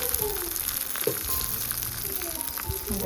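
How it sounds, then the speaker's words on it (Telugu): Garlic, cumin, mustard seeds, curry leaves, dried chillies and asafoetida sizzle in hot oil for a tempering, a steady close crackle with a few scraping stirs. "తాలింపులో వెల్లుల్లి జీలకర్ర ఆవాలు కరివేపాకు వట్టిమిర్చి కొంచెం ఇంగువ వేసి తాలింపు వేసేసుకోవాలి"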